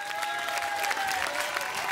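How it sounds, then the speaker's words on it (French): An audience applauds eight-year-old contestant Estelle: a dense, steady wash of clapping fills the room at a moderate level, with a faint tonal line running underneath. "applaudissements pour ce bouchon extraordinaire"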